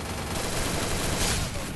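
Rapid gunfire from a video game weapon, a dense and steady stream of shots with no pause, loud and close throughout.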